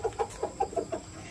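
A Kasta chicken clucks in a rapid run of short, soft, evenly spaced clucks, close and fairly quiet.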